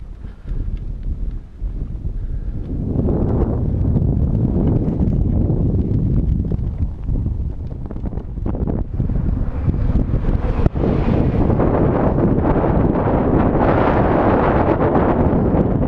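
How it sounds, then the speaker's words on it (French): Strong wind roars and buffets steadily across the microphone for the whole stretch, gusting louder toward the end. "Heureusement, le vent souffle dans la bonne direction."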